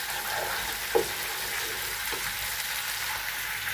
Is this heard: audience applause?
no